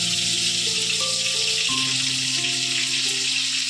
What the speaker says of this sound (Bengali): টমেটো আর আদা পেস্টটা দিয়ে দেওয়া হচ্ছে।